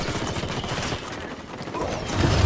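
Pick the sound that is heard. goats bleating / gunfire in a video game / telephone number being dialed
gunfire in a video game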